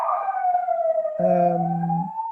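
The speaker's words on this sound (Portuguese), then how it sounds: "Acabou de passar uma ambulância." An ambulance siren passes along a street in a historic neighbourhood, loud and close with a steady wailing tone that shifts partway through as a lower horn-like layer joins, heard alone without talk.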